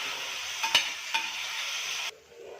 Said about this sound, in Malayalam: ആ എണ്ണയിലോട്ട് തന്നെ നമ്മുടെ ചിക്കൻ ഇട്ട് കൊടുത്തു.